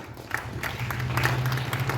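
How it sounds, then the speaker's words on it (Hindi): Audience applause at a school Republic Day ceremony in Kathua, a moderate, steady patter of clapping with a low hum beneath it. "तालियों से स्वागत करें इसका।"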